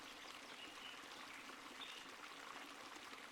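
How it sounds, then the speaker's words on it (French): Gentle river water slides over stones in a steady, soft wash with no breaks, faint and even, and no voices over it. "L'eau s'écoule lentement entre les pierres, créant une mélodie douce et régulière"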